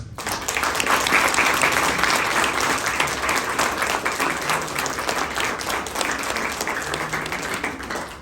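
Wedding guests applauding at a ceremony, a full, continuous wash of clapping from a sizeable crowd that holds steady for around eight seconds and fades slightly at the close.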